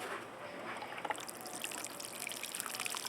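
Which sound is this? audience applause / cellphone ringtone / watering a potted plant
watering a potted plant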